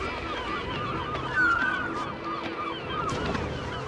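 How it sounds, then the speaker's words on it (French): Arctic gulls call along the Alaskan coast, giving honking, goose-like cries over a steady wash of outdoor background noise, with a few louder calls standing out near the middle. "les banquets des grands prédateurs se terminent immanquablement par l'arrivée des goélands arctiques"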